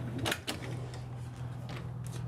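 A louvered door in a Thor Hurricane 34E RV swings shut with two quick, close wooden clacks in succession over a low, steady hum.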